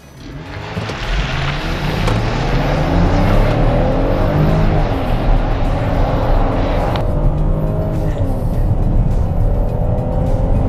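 A 2021 Chrysler Pacifica AWD minivan's engine roars loudly as it accelerates hard, pitch climbing steadily through gears, heard from inside the cabin.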